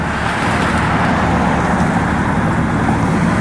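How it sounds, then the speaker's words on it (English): Steady road traffic noise with cars passing by, a continuous broadband rumble holding at a fairly loud level throughout, with no speech over it. "Got quite a bit of traffic."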